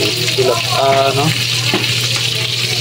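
Round scad (galunggong) sizzles steadily in a frying pan, a continuous loud crackle throughout, while someone speaks briefly over it.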